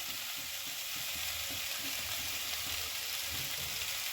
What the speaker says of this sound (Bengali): এবার আমি ভাজা চিংড়ি মাছগুলো দিয়ে দেবো। দিয়ে একটু ভালো করে নাড়িয়ে নেব। এবার দিয়ে দেবো আমি জল।